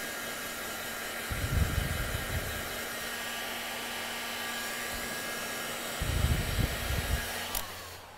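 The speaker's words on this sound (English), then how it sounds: "I'm going to go with my heat gun and my tool here and just push from the inside out on all directions" A heat gun blows hot air onto a patch being fixed over a tear on an inflatable boat, with a steady whirring hiss that rises in two louder bursts over a constant background hum.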